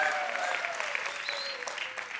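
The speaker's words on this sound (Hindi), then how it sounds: "डॉक्टर साहब के लिए जोरदार तालियां" Studio audience applause on a Kapil Sharma comedy show, a dense steady wash of clapping lasting a couple of seconds with faint voices mixed in.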